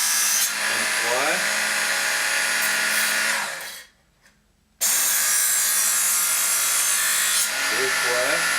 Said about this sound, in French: quand je descends mon couteau du côté droit, il faut que la strap descende dans le même sens que le couteau